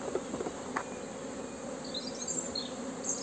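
A steady hum of honey bees at a hive in May, a continuous buzzing drone with faint high chirps layered on top and no talking.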